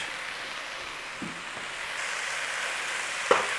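Bacon sizzling and frying in an Instant Pot, a steady soft crackle throughout with a brief stirring clatter near the end.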